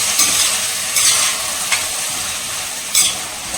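Grated carrot and beetroot sauté with ginger garlic paste in a pan, a steady bright sizzle broken by a few sharp scraping stirs, close and fairly loud with no voices.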